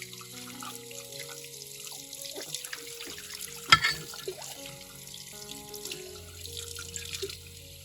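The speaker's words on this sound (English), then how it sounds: "Rinse the dishes with water." Dishes rinsed under running tap water at a kitchen sink after being scrubbed with tomato pieces, a soft steady trickle with a single louder splash and clatter midway, and faint background music.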